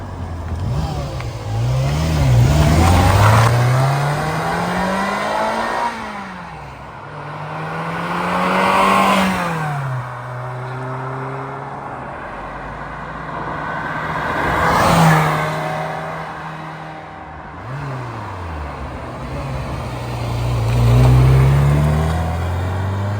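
A red-blooded 1989 Ferrari Mondial T Cabriolet roars past in repeated flybys, its engine note rising and falling with each pass as it accelerates, swells loud up close, then fades away between passes.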